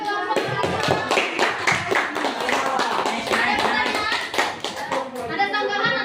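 A classroom group gets a burst of hand clapping after its presentation, with fairly close, brisk claps that persist and then thin out, mixed with some children's voices.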